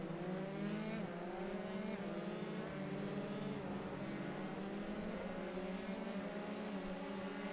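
Race cars in a racing video game lap the Montreal circuit, their engines a steady, layered high-pitched whine that rises and falls slightly as they pass, sustained throughout with no voices.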